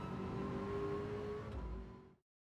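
Ford GT LM Spec II race car in Gran Turismo 7 with its engine droning steadily at high revs, then a brief low rumble before cutting off abruptly to silence.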